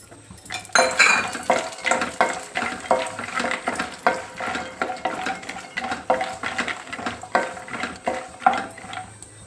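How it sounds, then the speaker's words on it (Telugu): Cashews go into a pan with almonds that are already dry-roasting for biotin laddu, then get stirred: a steady run of close, sharp scraping and clinking of a spoon against the metal pan with faint sizzling, and no voices. "ఇప్పుడు కాజు వేసుకోవాలి."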